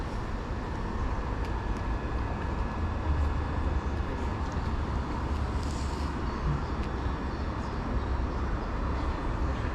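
Train pulling away from a Kent station platform bound for Ramsgate from London Charing Cross, a continuous broad rumble and rolling roar at moderate distance, steady throughout with faint squeal and background hum.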